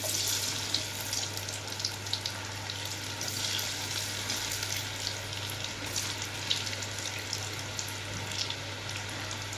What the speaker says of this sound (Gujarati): આ રીતે બધા થોડા થોડા કરીને તળી લેવાના.